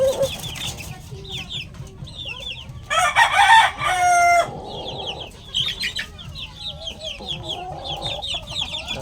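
A young stag gamecock crows loudly and close by, one long harsh crow in the middle while other chickens cluck and chirp around it throughout.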